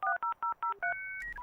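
Telephone keypad dialing tones triggered by a livestream bot: five short, evenly spaced DTMF beeps, then a longer run of sustained tones that shift in pitch, clean and close with no talking.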